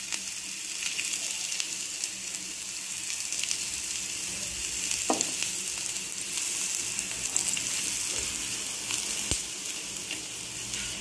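Ragi roti fries in oil on a pan, a steady close sizzle and crackle that holds for the whole stretch with a couple of sharp pops and no voices.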